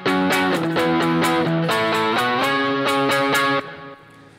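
An electric guitar plays a distorted power chord riff, a run of chugging, rhythmic chord stabs shifting between positions, loud and alone before cutting off near the end.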